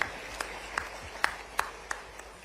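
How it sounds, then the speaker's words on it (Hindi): Audience at a public event, heard as a few distinct, regularly spaced claps standing out over a low background hum, fairly quiet overall. "जोरदार ताली बजा आपने।"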